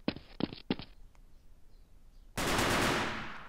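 An automatic rifle in a mobile first-person shooter game fires three quick bursts. After a short quiet gap comes a loud, sustained blast of gunfire that slowly fades.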